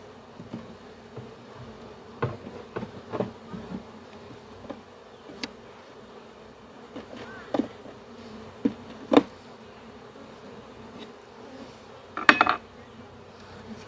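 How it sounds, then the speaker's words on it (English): Honey bees from a swarm being moved into a hive box hum faintly and steadily in the background, broken by scattered light knocks and clinks of equipment. "There's quite a few bees left in here."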